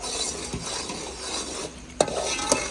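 A spoon stirs ghee into boiling jaggery rice in a pot, making close scraping and swishing sounds over a low sizzle. Two sharp clinks of metal on the pot edge land near the end.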